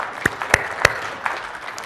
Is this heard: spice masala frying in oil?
no